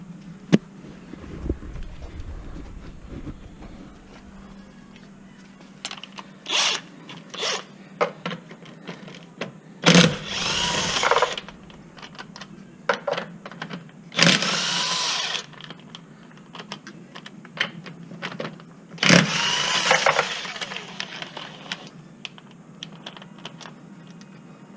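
Tools work to remove a car wheel for a strut replacement: scattered clicks and clatter build into three loud, close bursts of harsh mechanical noise over a low hum, with no talking.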